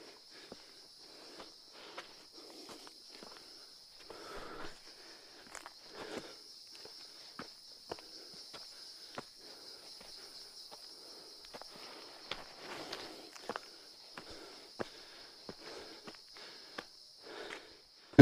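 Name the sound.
forest ambience with footsteps in Nainital jungle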